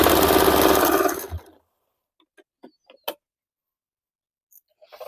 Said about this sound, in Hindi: अभी मैं नॉर्मली इसे सिल लेती हूँ।